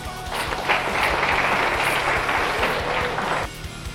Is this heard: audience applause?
yes